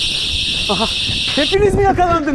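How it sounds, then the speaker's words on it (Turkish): A door alarm rings during an escape game, a steady shrill electronic tone for about a second and a half before cutting off, with excited voices talking over it and continuing afterward. "Bu sefer alarm çaldı."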